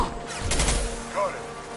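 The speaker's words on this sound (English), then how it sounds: "Firing concussive shot." A concussive shot fires in Mass Effect 2: a sharp, heavy burst with a deep booming thump, followed by a quieter tail and a brief voice.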